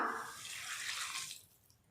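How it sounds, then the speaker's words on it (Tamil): Water pours steadily into a pan of karamani (black-eyed pea) masala as it cooks, a close, continuous splashing rush that tapers off toward the end, with no talking. "இப்போ இதில் தண்ணி சேர்த்துக்கலாம்."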